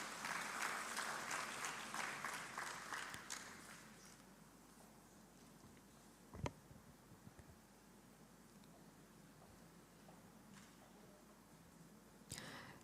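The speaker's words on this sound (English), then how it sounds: "Let us give a round of applause for all our achievers." A room applauds award winners at a university research symposium, strong at first and then thinning to scattered claps and shuffling, with a couple of sharp knocks later.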